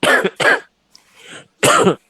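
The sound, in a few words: cough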